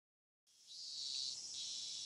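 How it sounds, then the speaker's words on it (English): In a Higurashi visual novel, cicadas buzz out in a sudden shrill, steady drone that starts after a brief silence and carries on alone, thin and fairly quiet. "these cicadas are gonna get really annoying"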